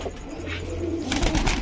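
Female giribaz pigeons coo softly nearby in a brief, low, rolling burst amid faint loft background noise.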